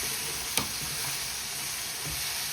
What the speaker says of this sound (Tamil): நான் பச்சை மிளகாய், கருவேப்பிலை இதெல்லாம் சேர்க்கிறேன். இதையும் மெல்லவாக மிக்ஸ் பண்ணி விடலாம்.